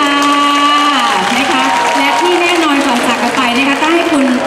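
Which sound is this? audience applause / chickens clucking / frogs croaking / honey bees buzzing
audience applause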